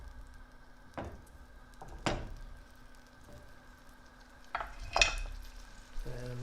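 Plant material frying in a pan gives a steady low sizzle, broken by a few sharp stirring and scraping knocks and clatters near the end.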